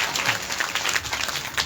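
An audience at a religious katha gathering in Bilaspur, Haryana, claps steadily in a dense, even wash of applause that is loud and continuous throughout.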